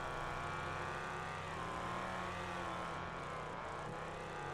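Trans-Am race cars in the racing game Wreckfest, several engines droning and revving steadily together as a pack through a hairpin, a constant loud mechanical hum with pitch sliding up and down.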